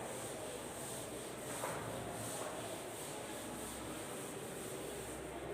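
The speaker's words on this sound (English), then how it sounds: "I am rubbing this diagram so that I can write." An eraser rubbing a diagram off a lecture-room board gives a steady, continuous scrubbing hiss that stays even and fairly close throughout, with no voices.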